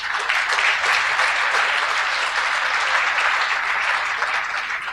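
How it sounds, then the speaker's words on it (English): A medical device conference audience breaks into a sustained round of applause, dense and even clapping from a large crowd holding level throughout. "That deserves a round of applause"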